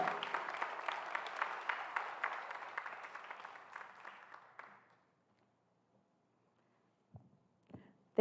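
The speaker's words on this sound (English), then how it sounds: "How about a round of applause?" Applause from the audience at a Phi Theta Kappa honor society induction ceremony, steady clapping that fades out after about five seconds into silence, followed by a couple of faint thumps.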